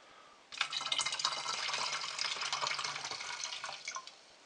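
Water pours steadily into a spray bottle for a pork shoulder mop, a continuous close splashing fill that starts abruptly and runs for several seconds without talk.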